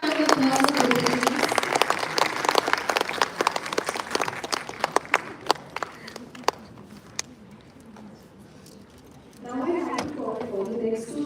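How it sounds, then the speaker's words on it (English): An audience at a debate competition applauds the teams, starting as dense, loud clapping that thins into scattered individual claps, then gives way to voices talking. "We have a round of applause for both the teams"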